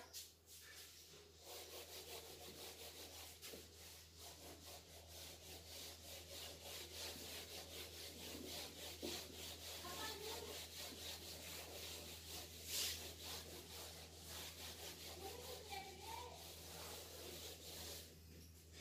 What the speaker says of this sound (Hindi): चित्र को भी रब कर देता हूं मैं